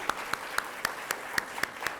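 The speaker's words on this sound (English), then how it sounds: "A big round of applause, please." Sparse, distinct handclaps for teachers and faculty at an address, roughly eight sharp claps in an uneven rhythm over two seconds, as from only a few people nearby.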